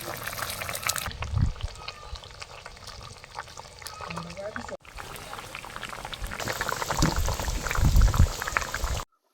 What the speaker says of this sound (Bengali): মাছের ঝোল আমি এখানে টোটাল 10 মিনিট ফুটিয়ে নিয়েছি